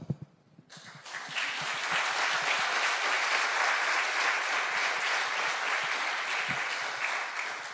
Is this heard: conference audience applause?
yes